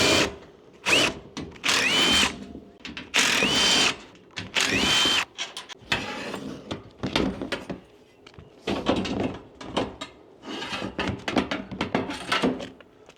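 A power drill fitted with a large T40 Torx bit backs bolts out of an IBC tote, sounding as repeated loud whirring bursts separated by short pauses, with occasional knocks and handling noise in between.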